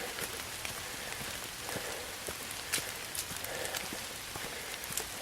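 Steady rain falls during a hike, a dense outdoor patter with scattered sharper drop hits, loud and continuous throughout with no talking.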